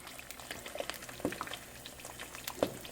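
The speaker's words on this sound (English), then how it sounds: "It was clear, now the eggs are getting cooked." Eggs fry quietly in a pan, giving a soft, low bubbling crackle with a few small pops scattered throughout. No voices are heard.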